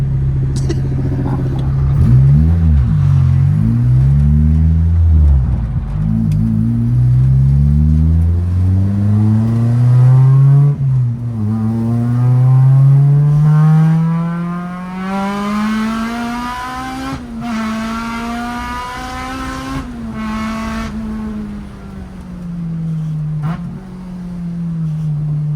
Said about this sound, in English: I miss to be able to just drive a car and just bang through the gears